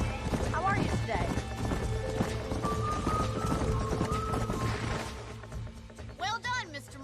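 Horses in the Red Dead Redemption game on PS3, with hooves clip-clopping and a short whinny over a steady background of game sound and talking, and a brief burst of higher calls near the end.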